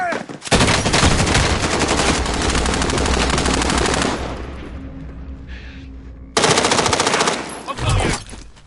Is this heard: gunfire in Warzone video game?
yes